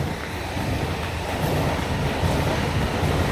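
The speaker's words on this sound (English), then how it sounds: "It's probably about the loudest you'll ever hear a train in Sweden" A train in Sweden rumbles past nearby as a loud, continuous broadband roar that holds steady and swells slightly, with no voices.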